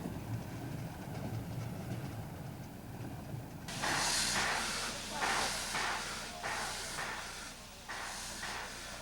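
The Orient Express train rolls along the Danube shore, a low rumble that jumps to loud hissing and rhythmic clattering bursts as the carriages sway, close and continuous with no talk.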